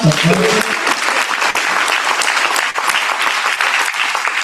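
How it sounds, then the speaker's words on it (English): A school parent forum audience gives Joe a round of applause, a dense, loud burst of clapping filling the hall steadily for several seconds, with a brief voice at the very start. "Can we give him a round of applause?"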